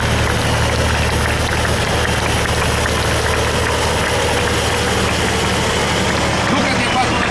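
Pulling tractor engine running at a tractor pulling event, a loud, steady, dense roar with an even mechanical rumble that continues throughout without a break.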